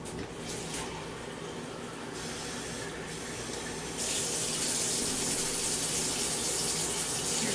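Water from a kitchen tap running into a measuring cup for a cake mix, a steady close hiss and splash that grows louder partway through as the flow increases.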